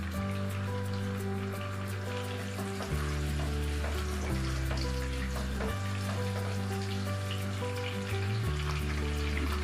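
Onion frying in hot oil for a spicy fried goat meat dish (asun) gives a steady, close, crackling sizzle that holds evenly throughout, with no one speaking.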